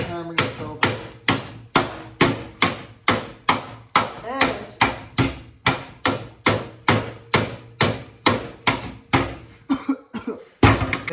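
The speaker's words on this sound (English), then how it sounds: "So you want to go nice and gradual when you're hammering this over." Sheet metal being hammered over the edge of a metal table while shaving a car's engine bay, a steady run of about two dozen loud, evenly spaced metallic blows, close and alone, ending in a few irregular strikes.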